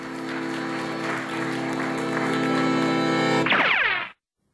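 An audience at a puppet theatre show on a barge claps in a dense, continuous burst over a sustained musical tone, ending with a sweeping effect before everything cuts to silence.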